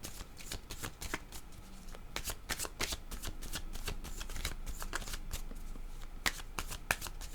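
A deck of playing cards is shuffled repeatedly, producing rapid riffling bursts and crisp flutters in a close, continuous sequence with no talking.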